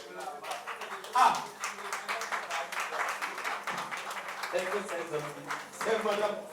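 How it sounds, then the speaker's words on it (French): An audience at a book dedication event applauds steadily for several seconds, a dense wash of clapping with voices mixed in and a brief louder swell near the start. "On va applaudir également très fort Monsieur"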